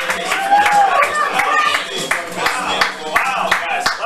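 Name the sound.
comedy club audience applause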